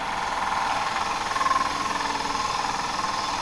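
A 1/2 inch spindle gouge cuts wood on a running lathe, a steady close rumbling hum with a faint scraping texture throughout, no voices.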